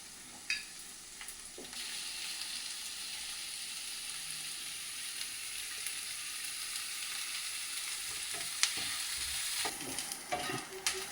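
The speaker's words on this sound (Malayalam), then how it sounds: "കറിവേപ്പില, പച്ചമുളക്, അല്ലപ്പോൾ ചുവന്ന മുളക്, ഉള്ളി അത്ര മാത്രമേ ഉള്ളൂ കേട്ടോ. നല്ലോണം ഒന്ന് നമുക്ക് വഴറ്റി എടുക്കണം." Onion, green and red chillies and curry leaves sautéing for onion chutney, a soft steady sizzle with occasional spatula scrapes and taps against the pan, fairly quiet throughout.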